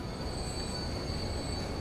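A train in the railway simulation game Transport Fever rolls steadily with a sustained high wheel squeal over a dense rumble, loud and continuous without talking.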